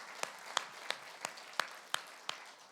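Slow, evenly spaced claps from a congregation in a church, about seven distinct hand claps in a steady rhythm, fairly soft and roomy with nothing else over them.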